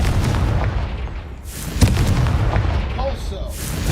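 Confringo fire spell blasting in the Hogwarts Legacy video game: a booming explosive burst with sharp cracks over a dense rumbling game soundscape, close and loud.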